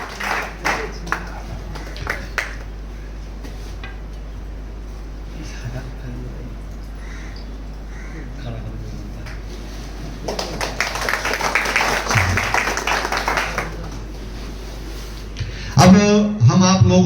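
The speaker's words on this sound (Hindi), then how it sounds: "जोरदार ताली से इनका हम लोग पुनः स्वागत करें" An audience at a book release ceremony breaks into applause to welcome a guest, a spread of clapping that swells in the middle of the stretch, with a voice heard over the hall.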